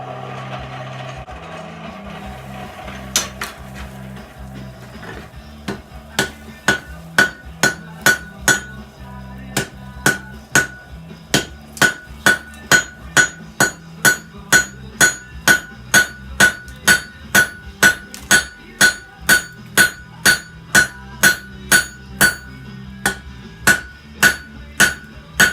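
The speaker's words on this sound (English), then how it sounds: "hearing protection because of the anvil" Hammer striking pattern-welded steel for chef knives on an anvil, a long series of sharp ringing metallic blows at a steady, quick rhythm, loud and close, over a low background hum.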